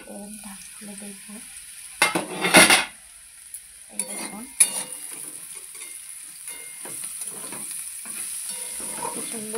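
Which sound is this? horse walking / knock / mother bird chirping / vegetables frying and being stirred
vegetables frying and being stirred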